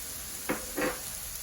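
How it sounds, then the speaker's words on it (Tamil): Eggplant and potato frying in a pan, Sri Lankan style, with a steady soft sizzle and two short stirring scrapes against the pan. "கத்திரிக்காயை உருளைக்கிழங்கோட அப்படியே நல்லா வதங்க விடுவோம்"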